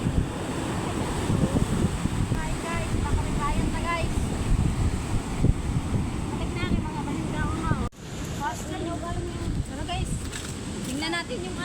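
Big ocean waves roll and crash onto a shore at night, a loud, continuous roar of surf with wind buffeting the microphone, while people talk over it.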